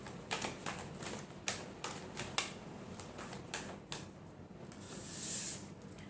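Tarot cards are shuffled by hand at close range in a series of quick, papery flicks and taps, ending in a softer rustle, with no voice over them.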